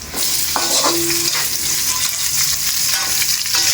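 Onions sauté in a hot pan, a loud continuous sizzle with scraping stirring strokes close up and a few utensil clinks.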